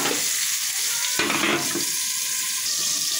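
Steady sizzle of tomato frying with mustard paste in a pan, with a brief burst of stirring and scraping midway; no voices.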